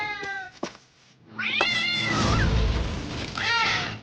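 A pink cartoon cat meows in a video game trailer, several high, drawn-out meows in a row, loud and close, laid over a thick bed of dramatic orchestral music.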